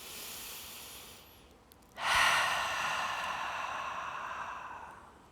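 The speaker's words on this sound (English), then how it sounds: "Take a deep breath." A slow, deep breath during a yoga flow: a faint airy inhale, then a fuller, longer exhale that fades gradually, heard alone without talk.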